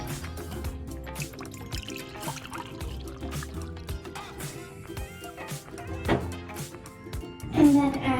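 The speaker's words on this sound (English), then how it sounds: "Pour the water in." Hot water trickles and drips into a cup during a balloon rocket experiment with an antacid tablet, the splashing light and close, with a voice speaking at times.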